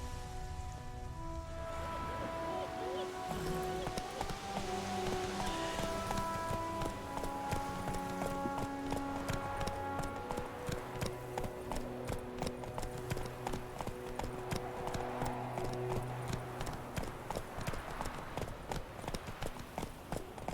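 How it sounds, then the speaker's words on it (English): Horse hooves clip-clop steadily in The Witcher 3 as a horse is reined in, a continuous rhythmic trot heard over game music and a rain-like ambient bed. "Whoa there, Roach."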